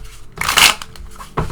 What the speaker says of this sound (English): I'm sorry about the shuffling.